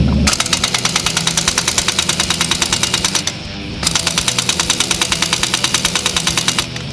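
A 1-inch drive industrial air impact wrench on its lowest setting hammers away at nuts in a continuous rapid rattle, loud and close, with a brief dip in intensity midway before resuming.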